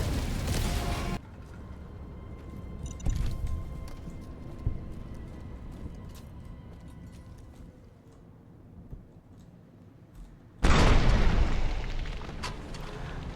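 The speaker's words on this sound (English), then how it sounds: "There's so many explosions." Explosions and grenade blasts in a chaotic online video game: loud booming bursts open and close the span, with a rumbling, crackling stretch of game noise between them.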